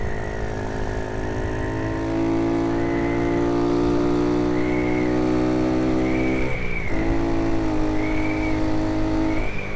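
A modified Honda C90 motorcycle with a 170cc engine running rich, revving and accelerating steadily up close, its droning engine note climbing and dipping briefly near the middle, with no voices.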